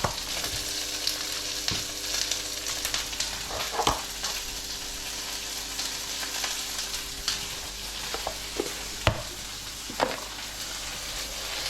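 Duck breast pan-frying on an induction hob gives a steady close sizzle, broken by scattered sharp pops and spatters and occasional stirring scrapes.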